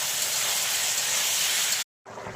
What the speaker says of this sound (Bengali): ভাত রান্না হচ্ছে আমাদের।